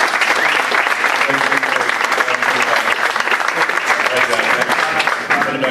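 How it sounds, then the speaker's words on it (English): A studio or live audience bursts into a sustained round of applause at a children's hospital give-a-thon, dense, loud clapping continuing evenly throughout. "How about a round of applause for Brett?"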